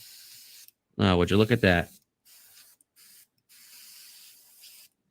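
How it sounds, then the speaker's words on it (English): Paint spraying from a spray gun using unthinned paint, with short hissing bursts broken by brief pauses, and a person speaking briefly over the sound. "Let me put a little bit in here, and let's not thin it at all. Let's just spray."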